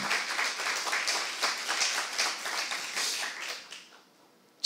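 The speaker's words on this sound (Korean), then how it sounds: "박수 한번 주세요." Church congregation applauding during a Saturday worship service, a moderate patter of hand claps at a steady pace that gradually thins out and fades to near silence.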